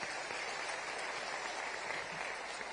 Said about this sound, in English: Let me propose a round of applause for all those who gave wonderful suggestions